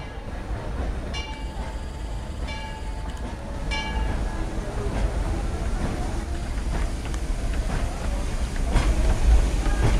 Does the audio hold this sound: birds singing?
no